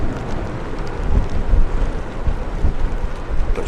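Strong, steady wind gusting at Manchester Airport on a wet, windy day, buffeting the microphone with rumbling low roars that swell and ease in irregular surges, loud and continuous with no voices.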